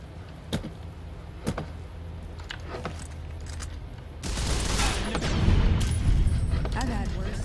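Assault rifle gunfire in Fallout New Vegas: a couple of sharp isolated shots early on, then a dense, loud stretch of sustained firing and blasts, with voices talking throughout.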